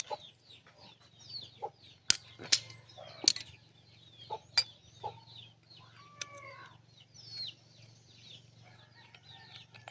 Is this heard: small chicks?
yes